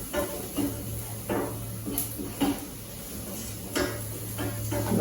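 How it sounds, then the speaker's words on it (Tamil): Drumstick greens and banana flower sautéing with a pinch of salt in a pan, a soft steady hiss broken by periodic scraping stirs of a spoon against the pan. "இப்போ இதை கொஞ்சம் நல்லா வதக்கிடணும்"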